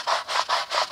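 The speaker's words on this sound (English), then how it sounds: "I'm just going to take this brush and just rub it" A brush scrubbing a car surface coated in foaming enzymatic all-purpose cleaner, moving back and forth in four steady rasping strokes, close and fairly loud with no talk.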